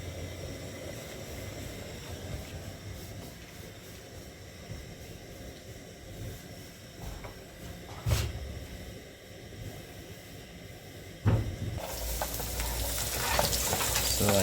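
A steady hiss of frying in a hot pan fills the scene, with a couple of sharp knocks. It grows into a louder, brighter sizzle near the end as onions go into the oil, with no talk.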